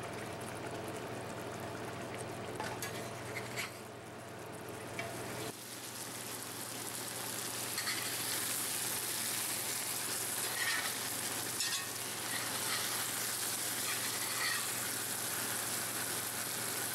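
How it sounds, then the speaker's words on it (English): Steak simmering in Diane sauce in a pan, a continuous close sizzle and bubbling hiss that grows a little busier partway through, with no talk over it. "Add the steak to the pan and simmer it in the sauce for 5 minutes"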